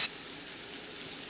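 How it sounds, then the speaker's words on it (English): Onion frying in hot oil for chole bhature, a steady close sizzle and hiss that starts with a brief sharp burst and then holds even, with no talking. "Now I'll fry the onion."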